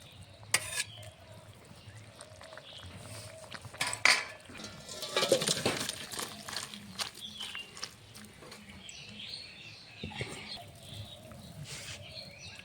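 A pot of cooked curry with potato, bitter gourd, small fish and drumstick is lifted off a stove, its metal clanking and scraping faintly while birds chirp in the background.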